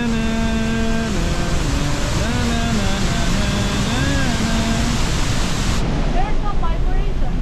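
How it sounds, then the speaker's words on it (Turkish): Loud, constant rushing roar of a waterfall up close, with a steady tonal whine gliding in pitch layered over the water noise. "Hadi geçelim şu şelaleyi."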